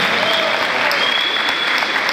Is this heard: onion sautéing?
no